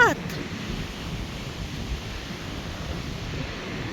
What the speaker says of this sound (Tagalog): Ayan, napakalaki ng dagat. Alon, napaka-alon.